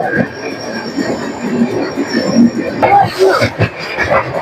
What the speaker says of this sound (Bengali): ট্রেন কিন্তু এখনো এমন গতি তোলেনি